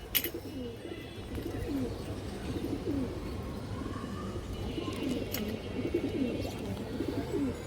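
Pigeons coo softly in repeated low, throaty bursts, several birds close together, under a steady background hum.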